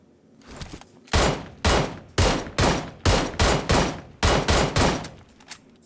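QBU marksman rifle shots in PUBG Mobile: about a dozen loud, cracking reports fired in a steady rhythm, each with a short echoing tail, over near silence.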